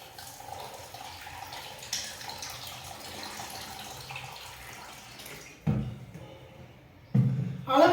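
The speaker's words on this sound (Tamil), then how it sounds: "இதுக்குள்ளே ஒரு பாத்திரத்தை வச்சுட்டு நான் இதில் வந்து தண்ணி விட்டுக்கிறேன்." Water is poured into a vessel set inside a pressure cooker while making wheat rava sweet pongal, a soft running trickle that becomes two louder, fuller splashing pours near the end.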